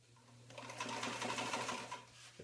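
A sewing machine runs slowly and steadily, stitching fabric for a rolltop backpack, its close mechanical hum and needle patter rising in the middle of the short burst.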